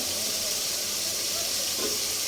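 Garlic paste and cumin paste frying in a hot pan give a steady, close sizzling hiss that runs continuously throughout.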